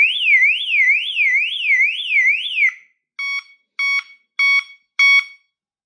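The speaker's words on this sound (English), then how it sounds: "So siren's gone off" A Teltonika GN8 CAN-BUS GPS car alarm siren wails loudly in a rapid rising-and-falling electronic warble, cuts out, then gives four short, evenly spaced beeps.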